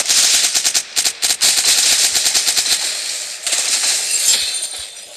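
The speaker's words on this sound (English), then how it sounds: "Oh, gunfire." Rapid automatic gunfire in the shooter game Cyber Hunter, dense bursts of crisp shots with brief pauses, loud and close, followed by a softer rattling tail.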